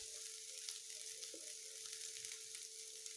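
Egg and okra (bhindi) stir-frying in a pan, giving a faint, even sizzle with a low steady hum and occasional soft stirring scrapes.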